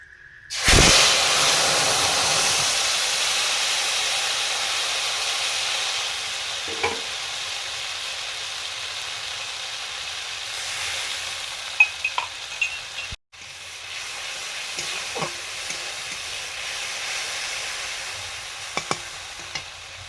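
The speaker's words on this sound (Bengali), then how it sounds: "মশলাটা কষা হয়ে গেছে" Dry chilli, ginger and turmeric masala sautéed in hot oil, a loud steady close-up sizzle and hiss running nearly throughout with a few soft stirring knocks and one brief break.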